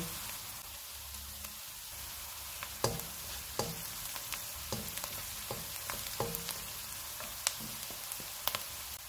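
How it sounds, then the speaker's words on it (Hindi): Onion and chopped garlic fry in a pan with a steady close sizzle, broken now and then by sharp pops and crackles, and no voices. "1 टेबलस्पून चॉप किया हुआ लहसुन डालेंगे। इसको 1 से 2 मिनट तक फ्राई करेंगे।"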